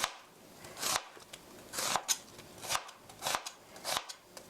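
A knife slicing pork into thin strips about 0.3 cm thick, giving crisp, short cutting strokes in a fairly regular rhythm, roughly two per second, close and clear with brief quiet gaps between cuts.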